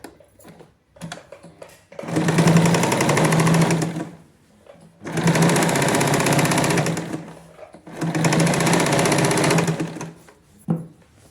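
A sewing machine stitches the inner side of a pocket on a girl's shorts, running in three sustained loud bursts of about two seconds each with brief quiet gaps between.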